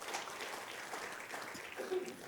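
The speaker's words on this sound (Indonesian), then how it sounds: "Kasih tepuk tangan buat Tuhan." A church congregation applauds during a sermon, a faint, diffuse wash of many hands clapping heard from a distance, steady throughout.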